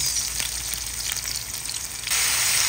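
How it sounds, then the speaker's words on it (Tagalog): Garlic and onion sautéing in a hot pan for a tomato and egg dish, a loud, close, continuous sizzle with faint stirring scrapes that swells brighter near the end. "igigisa ang ating bawang at ang ating sibuyas po"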